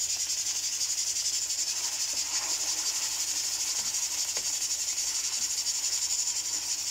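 Chicken pieces for tikka biryani fry in hot oil in a pan, giving a steady, close, high sizzling hiss with faint pops and no break.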